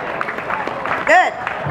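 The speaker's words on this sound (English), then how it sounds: "let's give them a big round of applause" Outdoor crowd at the Asian Heritage Festival 2013 at Audubon Zoo, New Orleans, clapping for the NOLA Aikido group, a brief burst mixed with chatter and a rising whoop.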